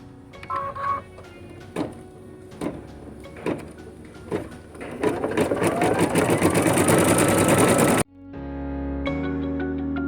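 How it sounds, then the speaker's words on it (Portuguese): An embroidery machine stitches down the ears of a quick in-the-hoop elephant comfort blanket, a steady run of rapid needle strikes after several separate clunks, then a brief pause and a different mechanical whir resuming, with no talking. "Agora a gente vai baixar aqui o pezinho da máquina e ela vai fazer a fixação definitiva então aqui das nossas orelhinhas."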